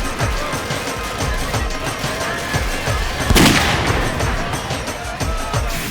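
A gunshot rings out in a TV crime drama scene, a sharp loud crack around the middle of the clip over a busy, rumbling soundtrack with repeated low thuds.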